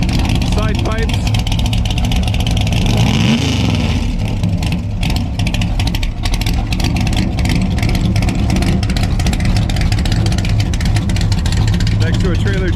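A C3 Corvette with side pipes rumbles and revs nearby at a race event, its throaty engine note rising and falling over several seconds beneath people talking.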